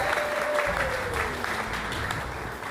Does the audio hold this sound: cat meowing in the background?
no